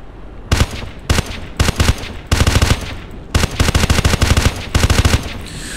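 Rifle fire in a military shooter game, either Ghost Recon Advanced Warfighter or ArmA 2, loud close bursts of rapid automatic shots separated by short pauses, with no talking.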